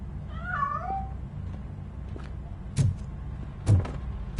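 A cat hiding inside a piano gives a few meows. One harmonic call sounds early, and two sharper bursts follow later over a low, steady background hum.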